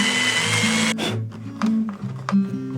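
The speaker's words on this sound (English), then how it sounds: "Drill the hole." A power drill whirs steadily with a few short bursts and pauses, close and fairly loud, with no one talking, while repairing a 2005 Recording King ROS 606 acoustic guitar.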